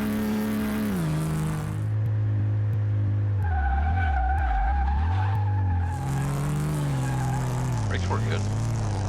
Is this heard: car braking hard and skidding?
yes